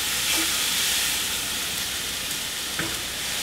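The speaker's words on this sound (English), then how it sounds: "Using a wooden spoon, move it around. Try to get all the little pieces that stuck to the pan" Steak pan sauce reducing in a hot pan, giving a loud, continuous hiss, with a wooden spoon scraping up the stuck bits and a couple of faint knocks.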